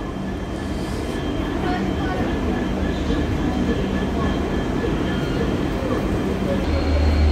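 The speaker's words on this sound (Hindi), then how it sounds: "रमेश्वरम फिरोजपुर हमसफर का अराइवल" A Rameshwaram-Firozpur Humsafar Express pulls into a station, its steady low rumble and rolling wheel noise filling the scene continuously, loud and close, with voices audible in the background.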